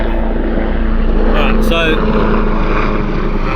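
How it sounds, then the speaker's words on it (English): Helicopters flying overhead near a waterside spot where garfish are being cleaned, a steady loud rotor and engine drone sitting behind close speech that runs through the whole stretch. "we've got some helicopters going on here."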